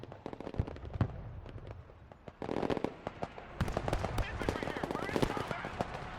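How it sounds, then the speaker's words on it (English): Infantry firefight in the woods in the game Broken Arrow: rapid crackling rifle and machine-gun shots, mostly distant and overlapping, steady bursts with someone talking over them. "Got a little bit of an infantry firefight in the woods"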